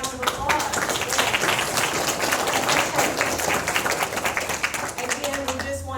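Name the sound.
applause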